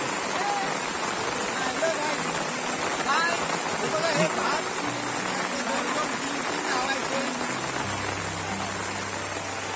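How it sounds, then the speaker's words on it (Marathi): Heavy rain pours steadily onto flooded paddy fields in rural Konkan, a dense constant hiss filling the scene with a low drone entering near the end. "त्याने जोरदार पाऊस आला बघा"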